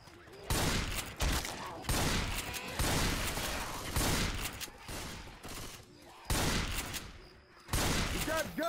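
Gunfire from the video game Left 4 Dead 2 rattles in loud, dense sustained bursts of rapid shots, separated by brief lulls, with game voices heard faintly under the shooting.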